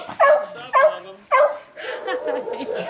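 Beagles at a rescue transport event give three sharp, close barks in quick succession, followed by a softer run of whimpering and yipping.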